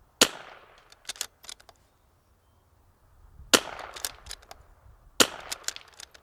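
Rimfire rifle shots aimed at a precision target: three sharp cracks spaced a few seconds apart, each one followed by several faint metallic pings or clicks, in an otherwise quiet outdoor setting.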